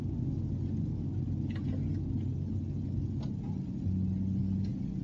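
A car engine in BeamNG.drive, a manual car running up through its gears: a low, steady rumble with a few pitch changes as it shifts, moderately loud and continuous, with no talking.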